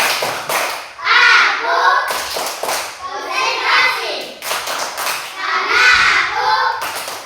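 Schoolchildren in a classroom doing the rhythmic clapping game tepuk konsentrasi, chanting together while clapping in quick patterned bursts, with a teacher's voice in between, loud and near.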